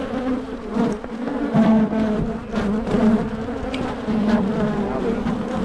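Honey bees buzz loudly around an open hive in early spring, a dense, continuous droning hum close by, swelling and easing as individual bees pass near.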